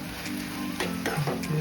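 A tomato mixture sautés in a pan while being stirred, giving a loud close sizzle with a few scraping strokes in quick succession, no talking.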